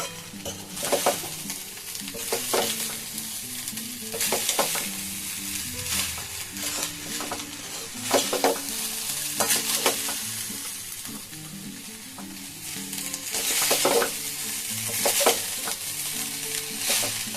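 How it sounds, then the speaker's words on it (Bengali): Spices mixed with powdered sugar in a pan over a low flame for jeera rice, with a soft sizzle, repeated scraping stirs at irregular intervals and quiet music underneath, no talking. "এবার খুব ভালো করে মিশিয়ে নেব একদম লো ফ্লেমে এগুলোকে মিশিয়ে নিতে হবে"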